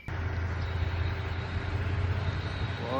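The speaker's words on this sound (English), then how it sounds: "We're gonna go ahead and take a test drive right now." A 2019 Toyota Tundra on a test drive gives a steady, moderate engine and road drone from inside the cab, with a faint rising tone near the end.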